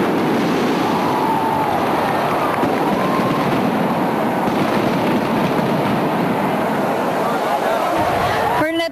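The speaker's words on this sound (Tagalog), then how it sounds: "Isang engrandeng fireworks display naman ang tumapos sa kasiyahan." A grand fireworks display closes a celebration at Eastwood Mall, with dense, continuous crackling and rumbling bursts filling the air alongside crowd noise.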